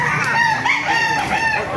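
Chickens and roosters at a market in Baliwag, Philippines, clucking and crowing close together in a busy, continuous flock chorus.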